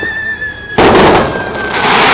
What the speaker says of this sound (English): can you see the fireworks?